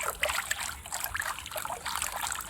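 Water trickling and splashing steadily as it drains out of a dish while wolffia plants are being cleaned on a catfish farm, a continuous close dribbling with no talk.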